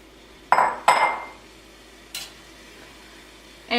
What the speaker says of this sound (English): So I'm going to go ahead and add my ground beef to the pan.